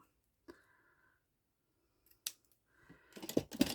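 Scissors snip through braided hair ends, several sharp clicks and cuts, close and quiet, with a cluster of quick snips at the finish.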